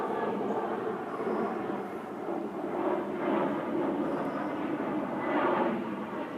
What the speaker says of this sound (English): Just seeing who's coming to town on that jet.